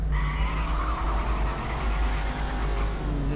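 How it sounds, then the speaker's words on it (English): BMW M5 (E60) doing a burnout in the driving game City Car Driving, a loud, sustained tire squeal over a low engine roar, steady and close throughout. "That was a burnout."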